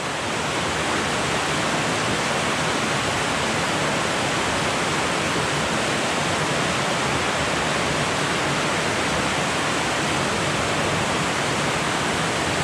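Creek water rushing steadily through the mouth of a cave after a day of rain, a dense, loud, unbroken roar with strong flow that holds constant the whole time.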